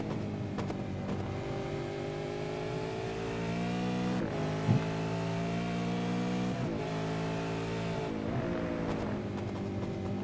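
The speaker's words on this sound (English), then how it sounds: "A bit of wheel spin from Hobson" A V8 touring race car at Laguna Seca revs hard and steadily with spinning wheels, its loud engine note rising and falling with a couple of brief dips, the car close by.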